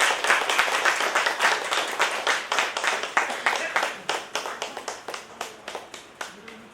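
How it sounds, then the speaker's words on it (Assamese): A seated audience at an Assamese poetry book launch claps steadily, with many individual claps blending into moderate applause that slowly thins out. No one talks over it. "জোৰদাৰ হাত চাপৰি দিব সকলোৱে।"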